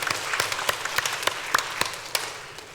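A church congregation claps to bless the choir after it sings, a sustained crowd of hands with several louder individual claps popping out irregularly at moderate level.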